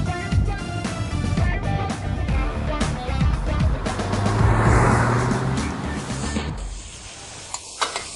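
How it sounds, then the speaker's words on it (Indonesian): A Chevrolet Camaro engine gives a steady, broad rumble with a hissing edge that swells midway and then thins out toward the end. "Camaro emang keren ya, suara mesinnya aja enak didengar."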